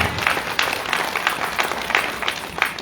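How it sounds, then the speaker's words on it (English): An audience at an awards gala applauds steadily, many hands clapping in a dense, continuous patter at moderate volume with no voices on top. "Let's give her a round of applause."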